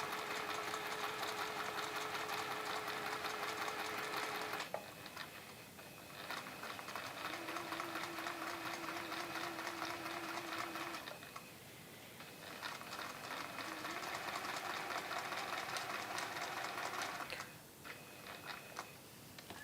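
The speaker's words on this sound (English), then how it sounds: "I'm just going to sew a little bit over where I started, just so that it's like doing a reverse stitch really" A sewing machine stitching back over the start of a seam on a woven cushion, a steady fast close whirring run that pauses briefly a few times and then resumes.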